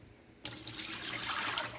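Water from a tap pours steadily into a pottery dish being cleaned, a close, continuous splashing stream that starts abruptly after a brief quiet moment.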